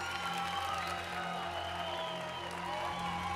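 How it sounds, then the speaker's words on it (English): Faint, distant audience applause and scattered cheering at an international swimsuit pageant, heard under a steady hum and music-like tones. "Give him a round of applause."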